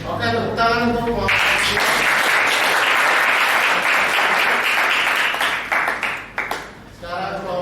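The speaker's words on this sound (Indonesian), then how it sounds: "tepuk tangan untuk kelompok" Applause for a classroom group rings out from a room full of students, a dense, steady wash of clapping that swells in after a brief spoken line and carries for several seconds before thinning out as talking resumes at the end.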